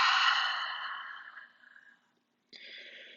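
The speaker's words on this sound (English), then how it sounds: "Make this your fullest, deepest inhale so far. And then most complete exhale." A long, deep exhale through the mouth during a power vinyasa yoga practice, loud at first and trailing off over about two seconds, followed after a pause by the start of another breath.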